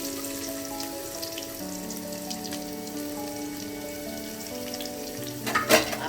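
Onions tossed into well-heated oil for chicken bread cutlets keep up a steady, close sizzle beneath a faint tonal background, swelling into a louder crackling burst near the end.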